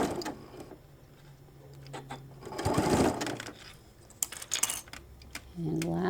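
A sewing machine stitches across the pleats of a shoulder bag in short, uneven runs mixed with handling clatter and small knocks, close by, with a faint tone at the end.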